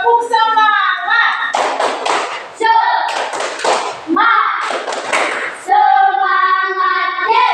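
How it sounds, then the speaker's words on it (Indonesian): Pupils in a classroom perform the 'tepuk semangat' rhythmic clap for group 1, three separate bursts of group clapping alternating with children chanting in unison between them. "Tepuk semangat dulu untuk kelompok 1."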